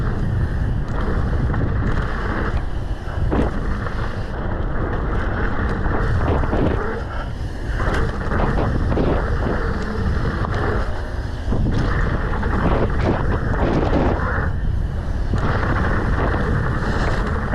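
Heavy wind buffets the microphone while someone rides a freeride mountain bike trail at Park City. The roar is loud, constant and close, with gusty surges and no clear voice.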